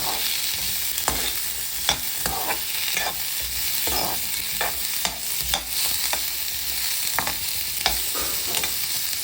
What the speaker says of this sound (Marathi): याला छान परतून घेते